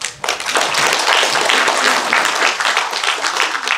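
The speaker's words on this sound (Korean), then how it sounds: "강원도 보디빌딩 협회 조광열 회장님께 다시 한번 큰 박수 부탁드립니다." Dense applause from the audience at the 30th Mr. Gangwon bodybuilding championship, sustained and loud from start to finish with no voices on top.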